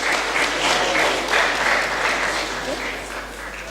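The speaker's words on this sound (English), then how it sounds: "A round of applause, please." A conference audience gives a round of applause, a dense, sustained clapping from a crowd that fades slightly toward the end.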